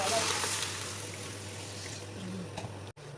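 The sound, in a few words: pouring water into cooking pot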